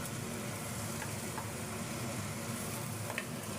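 Ground pointed gourd seed paste frying in a pan, a fairly quiet, even sizzle with soft stirring scrapes that continues steadily throughout.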